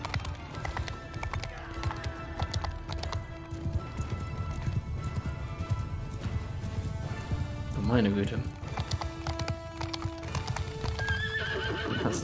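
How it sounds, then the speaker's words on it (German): Cavalry horses in a video game battle gallop with steady clip-clop hoofbeats and repeated neighs and whinnies, loud and close, while someone talks over the commotion. "das ist natürlich eine Kavallerie, die sich uns entgegenstellt, beziehungsweise vor der unsrigen flieht"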